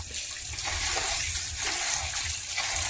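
Water splashes and swirls steadily as basmati rice is washed by hand in a kitchen, a close, continuous wet rush with small irregular sloshes throughout.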